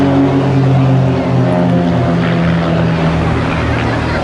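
Display team aircraft flying in formation with smoke on at a seaside airshow, heard as a loud, steady propeller engine drone that fills the whole stretch without a break.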